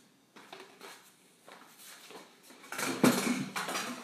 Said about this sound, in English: I'm going to put the almonds into the blender.